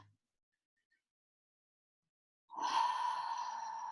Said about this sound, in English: take a nice deep breath in through your nose